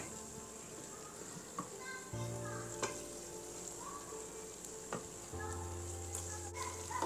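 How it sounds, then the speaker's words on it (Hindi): Urad dal (daal mash) goes into hot desi ghee and sizzles quietly, with a low, continuous frying hiss and occasional clinks, while faint background voices murmur. "अब इसमें दाल माश डालेंगे।"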